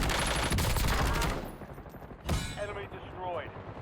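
Distant bursts of gunfire from a crowded fight up a building on Warzone's Rebirth Island, loud at first and then fading. A few sharper cracks and game chatter follow.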